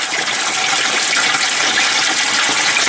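Water rushes steadily down through the bell siphon of an aquaponic garden, a loud, close, continuous gushing and hissing flow with no pauses.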